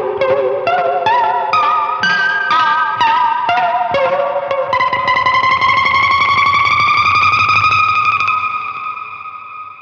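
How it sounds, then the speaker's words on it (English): Electric guitar strings struck behind the bridge on a Fender Jazzmaster or Jaguar with a lipstick pickup, run through effects. Loud, echoing metallic plinks in a stepped run give way to a sustained, rising sci-fi drone that fades at the end. "a lipstick behind the bridge to capture these weird noises, which I will demonstrate here"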